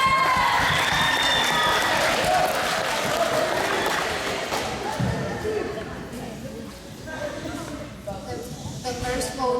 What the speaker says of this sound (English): Let's get a big round of applause for Christina.